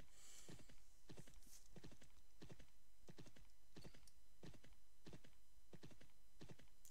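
Horse hooves clip-clopping in steady rhythm while riding in the online role-playing game Champions of Regnum, about ten evenly spaced hoof strikes at moderate volume over a faint constant background, no talking.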